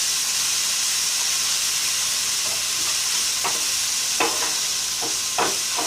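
Onion and tomato masala for a dry egg masala fries in a pan with a steady loud sizzle and hiss, and a few stirring scrapes near the end, with no talk.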